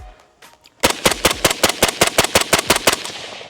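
Century AP53 fires a rapid string of about fifteen sharp, loud shots in an even rhythm, emptying the magazine after a quiet start.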